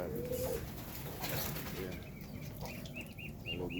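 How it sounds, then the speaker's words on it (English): Pigeons cooing on a farm kept with ducks, chickens, rabbits and turkeys, soft repeated coos in a steady series over a busy outdoor background, with a voice talking faintly at times. "All of those are birds."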